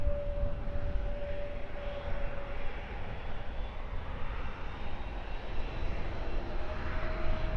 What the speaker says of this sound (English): Amsterdam destination for this latest EasyJet departure, little A319-100.